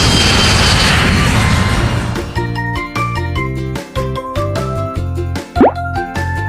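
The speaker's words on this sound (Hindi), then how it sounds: "जहाज कैसे उड़ता है?" An airplane sound effect opens with a loud roaring whoosh for about two seconds, then gives way to bright, rhythmic children's music with a quick rising swoop near the end.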